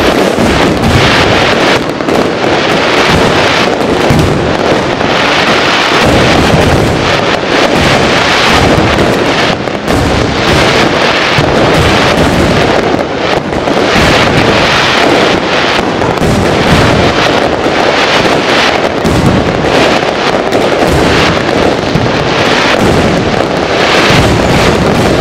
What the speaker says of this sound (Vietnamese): cảm ơn đến phần đốt pháo đến từ trung tâm tổ chức cưới hỏi Ngọc Lý